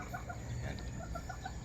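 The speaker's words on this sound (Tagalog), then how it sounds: "Yan itong dalawang inahin natin dito." Lemon brood gamefowl hens cluck softly and steadily in a farm setting, a run of short repeated calls over a low background hum.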